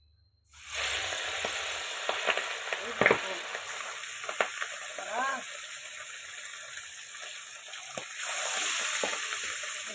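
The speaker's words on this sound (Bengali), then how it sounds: "এই যে মাছ ভাজা বসাবো দেখো কেমন ফোটে" Pabda fish frying in oil set off a sustained sizzle that starts abruptly, with scattered spattering pops and crackles throughout, fairly soft and close.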